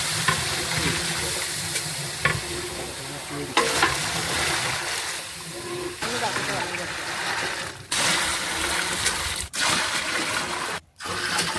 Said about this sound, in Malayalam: വെള്ളം ചേർത്ത് കൊടുക്കാം